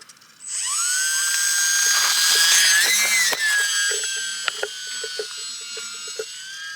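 A UMX Turbo Timber model airplane spools up for a short bush-style takeoff in the desert, its electric motor rising to a loud high-pitched whine that climbs in pitch, then drifts off and thins out, followed by scattered clicks and knocks.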